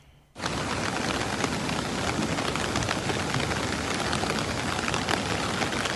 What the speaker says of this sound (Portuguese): Chuva também em Nova Palma.